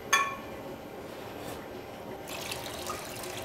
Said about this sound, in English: Add some cold water.